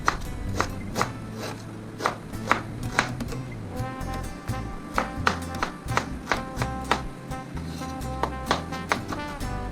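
Ginger being chopped on a cutting board for adobong pagi with coconut milk, a steady run of sharp knife knocks, close and fairly loud over a low hum, with no voices.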